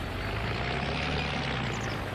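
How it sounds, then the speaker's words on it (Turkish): A Fiat Agri tractor engine in the Farming Simulator 25 video game drones steadily, a dense, even mechanical roar with exhaust tone that holds at constant loudness throughout, with no voices over it. "Egzoz sesi güzel. Motor sesi tınısı çok iyi."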